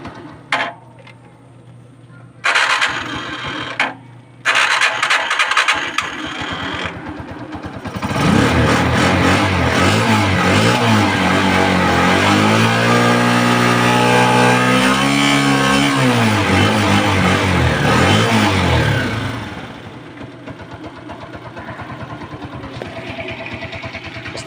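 A motorcycle engine with a carburetor fault and suspected bad spark plug is revved hard, roaring loudly and steadily with uneven, sputtering pitch swings, then drops back to a rough, stumbling idle; close and alone.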